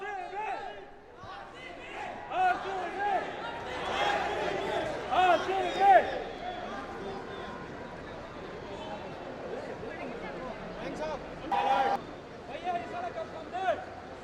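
Fans at Bengaluru airport cheer and shout as a cricket team arrives, a dense crowd roar with repeated whoops and yells rising above steady babble throughout.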